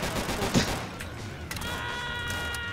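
Gunfire in Left 4 Dead 2: a dense burst of rapid shots early on, followed by ongoing game noise with a steady tonal hum, loud and close throughout.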